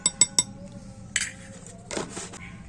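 A spoon clinks against a bowl as powdered milk is added, with three quick bright taps at the start, then a softer scrape and a short rattle of metal on dish, quiet and close.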